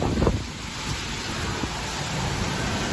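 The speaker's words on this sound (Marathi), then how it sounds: "काय वारा आहे बाबा" Strong pre-monsoon wind in Panvel buffets the microphone with a steady, loud roaring rush and gusty bursts.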